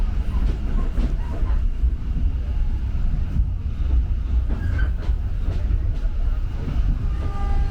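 The KA Lokal Merak local train runs on the rails with a continuous loud rumble and rattle of the carriages, heard from inside.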